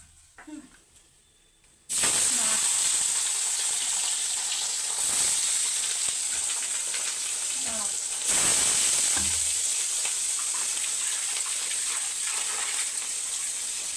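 Fish sizzling as it fries in a pan at home, for a Bengali fish curry; after a quiet opening moment a loud, steady hiss of hot oil takes over, swelling in bursts as pieces shift, with no talking.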